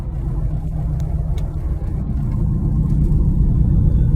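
Steady low engine rumble and road noise of a Hummer H2 driving around the block, heard from inside the cabin and growing slightly stronger toward the end.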